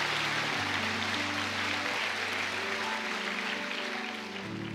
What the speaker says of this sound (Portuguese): Dê um aplauso mais forte a Jesus.